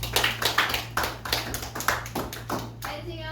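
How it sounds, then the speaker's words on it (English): A classroom of students claps for a classmate, a brisk run of sharp hand claps in a loose rhythm that fades out near the end, with a low steady hum underneath. "Give him a clap."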